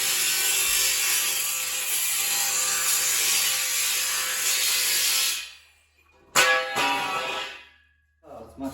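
Metal tube for a bookshelf being cut to length with a saw, a loud steady grinding, rasping cut for about five seconds, then silence and a few short metallic clatters and scrapes as the piece is handled.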